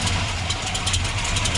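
A Chevrolet big block 454 V8 freshly installed in a square body Chevrolet pickup idles steadily with a low, even rumble, heard close and continuous.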